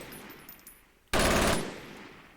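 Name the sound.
MG42 machine gun firing at 1200 RPM, Forgotten Hope 2 video game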